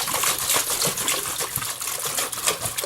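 Water sloshing around inside a heating system expansion tank that has water trapped in it, a continuous close-up churning and gurgling with an uneven, rolling rhythm.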